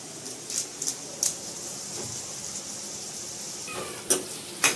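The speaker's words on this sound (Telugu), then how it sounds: "ఇప్పుడు ఇందులో మనము ఆనియన్ ముక్కల్ని యాడ్ చేద్దాము" Onion pieces frying in oil with curry leaves for a tomato curry, a low steady sizzle broken by a few sharp clinks of a spoon against the pan.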